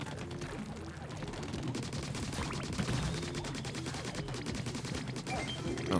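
Rapid bursts of cannon fire from the Salmon Run mode of the video game Splatoon 3, a dense barrage of repeated sharp shots layered over busy game sounds and music for the whole stretch.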